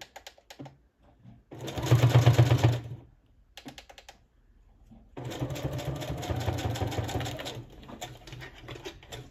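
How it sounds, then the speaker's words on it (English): A sewing machine runs a straight stitch with a little zigzag on a December daily journal page with Christmas clusters, in two steady bursts, a shorter one and then a longer one, with quiet ticking and handling between them. "So I'm just doing a straight stitch with a little zigzag by the feet."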